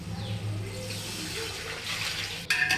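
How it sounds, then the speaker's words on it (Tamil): Steady running water pours and splashes into a pot for a few seconds while making prawn biryani, with a brief louder clatter of metal near the end. "இந்த ஸ்டேஜில் தேவையான அளவுக்கு தண்ணி சேர்த்துக்கலாம்"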